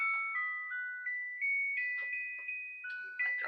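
A household clock chiming a melody indoors, a sequence of clear, evenly spaced electronic-sounding tones stepping through a tune, each note decaying before the next, loud and close with no talk.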